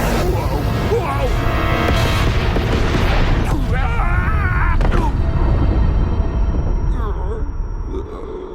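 Missiles launch in a Chaotix cartoon scene: a loud, sustained booming rush of rocket noise with rumbling blasts, while characters' voices shout over it.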